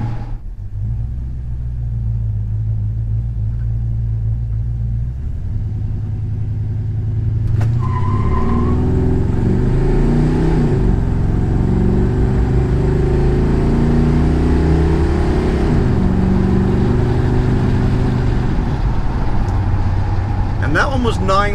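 A car with a Quadrajet carburetor and a torque converter accelerates hard from a standstill toward 60 mph, tires spinning. The engine roars loud and rising under a steady, heavy rumble, heard from inside, with a brief squeal and some speech mixed in.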